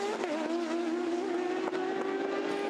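Porsche and Ford race cars at the 24 Hours of Le Mans 2019, engines droning steadily at a distance with a sustained tonal whine and no talk over it.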